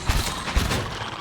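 A burst of gunfire from the video game Pillars of Eternity, two heavy thumping shots within a dense, noisy rumble, loud and close.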